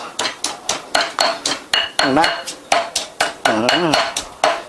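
Rhythmic pounding of fresh chilies in a mortar and pestle, steady sharp thuds about three per second, close by, with a voice speaking briefly over it.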